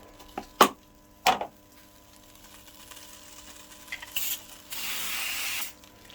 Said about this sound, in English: spray it with some oil